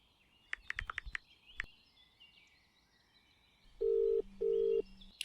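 A mobile phone call connects, giving a few short electronic tones followed by two long, steady ringback tones that sound alone and fairly loud.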